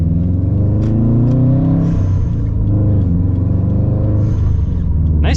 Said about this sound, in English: Nice turbo blow off.